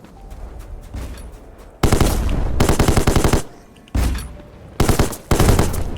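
A gun turret fires in the video game Black Skylands, loud rapid bursts of automatic fire in several separate volleys with short quiet gaps between them, no talking over it.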